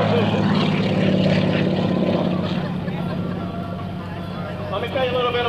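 A one-of-a-kind propeller show plane, designed and built in Oregon, flies at an airshow with smoke on, its engine drone loud and steady throughout while an announcer talks over it.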